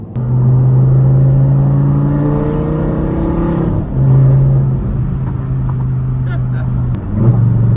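Audi R8 engine revving hard with sustained, loud tonal drone that drops and rises as it downshifts, with brief dips near four and seven seconds, close and continuous.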